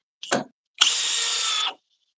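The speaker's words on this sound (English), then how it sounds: "we are in drill speed 2" A short click, then a power drill in speed 2 whirs at a steady high pitch for about a second before stopping abruptly.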